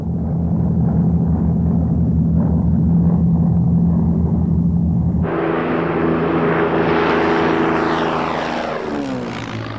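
A Grumman Panther jet aircraft roars loudly in flight, first as a steady low engine drone, then with a sudden shift to a harsher, brighter rushing roar about halfway through.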